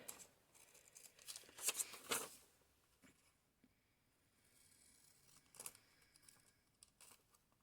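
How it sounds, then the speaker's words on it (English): Scissors snip through paper along fold lines for a handmade envelope, a few quiet crisp cuts in a brief cluster followed by faint rustling and another short snip, close and soft with no talking. "So I'm gonna cut on the fold lines."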